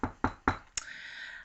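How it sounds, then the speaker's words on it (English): Three quick knocks on wood, sharp and close, evenly spaced, followed by a brief higher tap and a lingering faint ring. "knock on wood."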